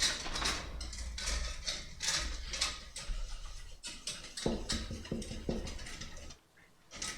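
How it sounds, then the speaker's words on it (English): Whisk beating ingredients in a bowl, rapid rhythmic clicking and scraping strokes in quick bursts, close and fairly loud, with a brief pause near the end. "I think it's been like 2 minutes of whisking this."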